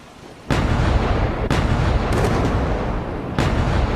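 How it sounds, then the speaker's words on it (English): A World War I artillery barrage on the Western Front at the Hindenburg Line, heard as a continuous loud roar of rumbling fire with several sharp blasts breaking through. "an intense barrage crashed down onto the Hindenburg Line"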